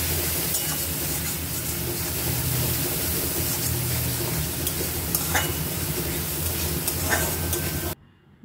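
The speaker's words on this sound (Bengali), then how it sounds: "মশলা কষানো হয়ে গেছে" Turmeric, coriander powder and Kashmiri red chilli powder sauté in a pan with a steady, close, loud sizzle and soft stirring scrapes, cutting off abruptly at the end.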